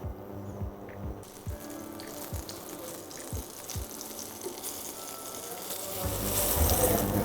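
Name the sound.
paneer frying in a pan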